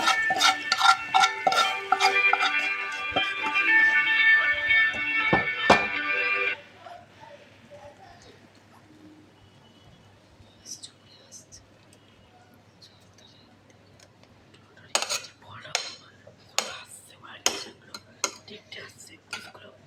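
Cooked eggplant, Bengali begun kasundi, is served onto a plate with metal utensils, giving a dense run of clinks and scrapes for several seconds, then a quiet stretch and a few scattered clatters near the end.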